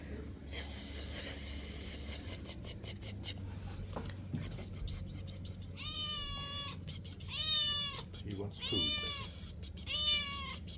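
Playful stray kitten siblings meow in a quick series of close, high meows, mostly in the second half, while a person talks and rhythmic tapping runs in the background.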